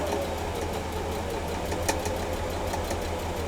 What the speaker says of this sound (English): I just put my needle down and a back stitch, and you just sew right on that line